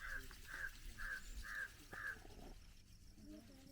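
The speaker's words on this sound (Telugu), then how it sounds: "ఎన్ని రకాల బర్డ్స్ శబ్దాలు వినబడ్డాయి చెప్పండి" Crows caw outdoors at the Earth Center: five evenly spaced harsh calls about half a second apart, then quieter rustling and faint background murmur.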